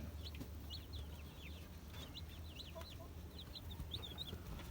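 Heritage chickens that lay brown eggs cluck steadily over a low rumbling farmyard background, several birds calling close by with no talk.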